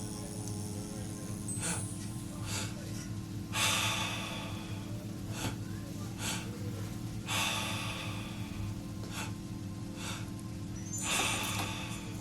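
Breathwork exercise: a person takes deep, forceful breaths in a steady repeating rhythm of sharp inhales and exhales, close and clear over a low background hum.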